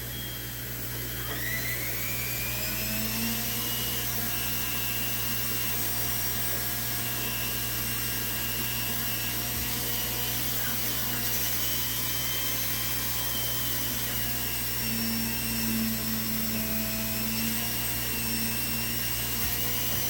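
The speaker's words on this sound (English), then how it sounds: "Use this little polishing wheel here, and it kind of gets in there real nice." A small polishing wheel buffs a Colt 25 pistol for nickel plating, making a continuous high-pitched motor whine with steady tones and a brief rise near the start, running alone without talk.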